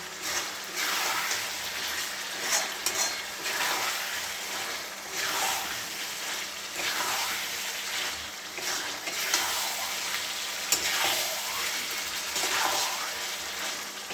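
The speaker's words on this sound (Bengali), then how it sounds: "ভালো করে কষে নিই" Spices frying in hot oil in a home kitchen pan, a continuous close sizzle with periodic swells of louder crackle as the mixture is stirred, and no talking.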